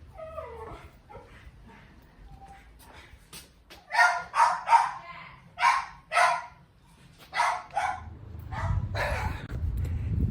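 A West Highland terrier barks in a run of loud, close bursts, several sharp barks in clusters with short gaps and a few whimpering yips, heard over a low background rumble indoors.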